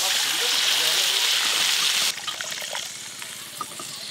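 Water pouring into mustard paste in a cooking pot for a hilsa curry, a loud steady gushing stream that stops halfway, followed by faint clatter and quiet kitchen sounds.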